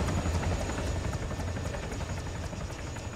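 A helicopter in Arma 3 hovers nearby with a continuous low rotor thrum and rhythmic blade chop over a steady whine, loud and unbroken throughout.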